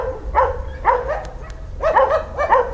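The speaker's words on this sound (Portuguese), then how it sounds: "Cachorro aqui." Several dogs bark in a hillside area near an environmental reserve, sharp bursts in short clusters, fairly close and loud over steady low background rumble.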